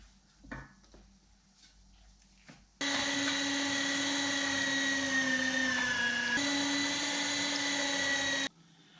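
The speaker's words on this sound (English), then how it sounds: "It's a bit slower than the other machine, but we'll load this up and we'll start making some mince" An electric mincer grinding beef for Thai and Laos sausages starts abruptly after a few quiet seconds with faint clatter, then runs as a loud, steady motor whine that shifts pitch slightly as it loads up and cuts off near the end.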